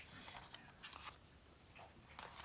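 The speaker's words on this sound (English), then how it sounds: "I don't know if you can hear my dogs chewing their bones in the background." Dogs gnawing and crunching on bones in the background of a quiet room, giving faint, irregular biting and crackling sounds over a few seconds.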